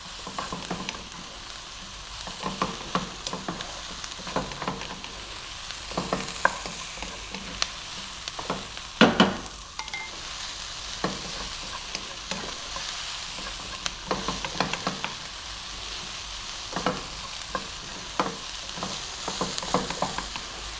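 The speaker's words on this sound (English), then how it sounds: "2 to 3 minutes again on this high heat, throwing it around the pan all the time" Garlic broccoli stir-fries in a pan over high heat, tossed constantly, giving a steady dense sizzle broken by frequent sharp clatters and scrapes for about twenty seconds, with no voices.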